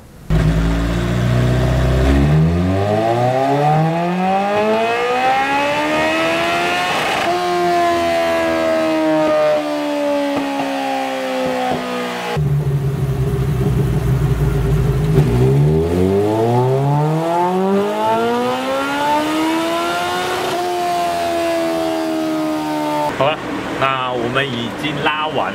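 A sport motorcycle on a dyno after a Woolich Racing ECU flash revs hard through long rising sweeps, falling back and climbing again twice, loud and continuous for over twenty seconds.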